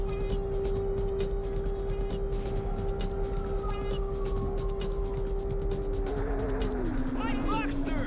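Porsche Boxster engine in the Porsche Challenge racing video game drones steadily throughout, a sustained tonal hum whose pitch slides and wavers near the end, with a voice talking over it.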